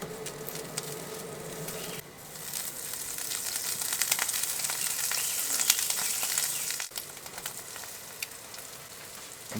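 Eggs reheat in a non-stick pan over a campfire, giving a steady, fairly quiet sizzle and crackle that swells slightly midway and runs for several seconds without talk.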